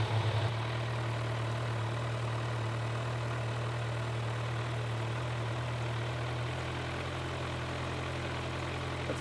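A Kawasaki Z900 motorcycle engine idles steadily at about 1000 RPM, a close, even low rumble that shifts slightly in pitch partway through, with no talk.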